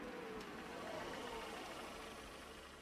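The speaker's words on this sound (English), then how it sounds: "The engine noise gradually fades to a low idling" A car engine idles as a sound effect in the visual novel Saya no Uta, a faint, steady low rumble that holds evenly throughout.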